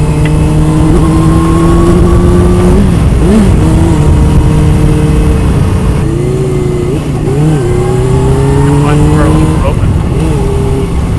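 A 1999 Suzuki GSX-R 750 SRAD sport bike engine revs steadily and loudly, pitch rising and dipping through repeated throttle blips over continuous wind and road noise, with faint talk underneath.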